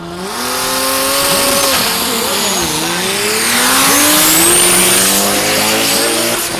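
Drag race cars, VW machines, accelerate hard down the dragway at Mason Dixon Dragway, a loud sustained engine roar with rising pitch sweeps as they pull past, filling the whole stretch without talk.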